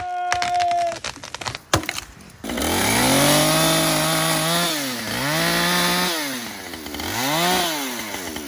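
A chainsaw revs and drones loudly and close in a forest, its pitch rising and falling with throttle, after a few sharp knocks and cracks at the start.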